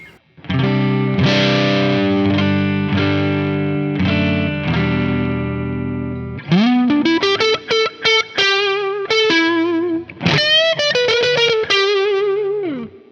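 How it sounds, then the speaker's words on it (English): Electric guitar on its neck P90 pickup at full volume, driven through a fuzz pedal into a lightly driven amp with heavy bottom end, playing sustained fuzzy chords and then a run of quicker, choppier notes, loud and alone. "So this is the neck P90, full volume."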